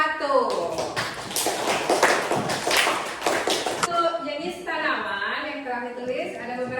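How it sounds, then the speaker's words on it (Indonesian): A classroom group claps for the first student group, a dense burst of applause lasting several seconds before tapering off under a teacher's voice. "Kita kasih aplaus untuk kelompok 1."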